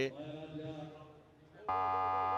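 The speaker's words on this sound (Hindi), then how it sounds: "बजर अलर्ट, ये सिल्वर बजर जो है अलर्ट हुआ है" A silver buzzer alert goes off during a cricket league broadcast, a loud steady electronic tone cutting in abruptly after a stretch of commentary-like voice and holding on to the end.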